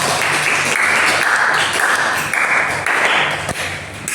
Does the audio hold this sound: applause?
yes